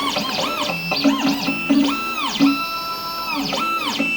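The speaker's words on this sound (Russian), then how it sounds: "Происходит калибровка станка," A key cutting machine calibrates before cutting a Yamaha Majesty scooter key. Its motor whines and repeatedly sweeps up and down in pitch, with brief mechanical clicks. The sound is close and steady, with no voices.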